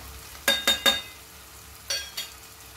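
Onion and tomato sautéing in a pan with asafoetida and turmeric for a dry Malvani matki dish: three quick scraping stirs in a row, then a pause and two softer stirs over a faint sizzle.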